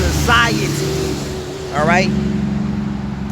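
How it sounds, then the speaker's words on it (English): A loud truck passes in traffic, its engine roar swelling near the end over steady road rumble, with someone talking over it. "loud ass truck that just passed."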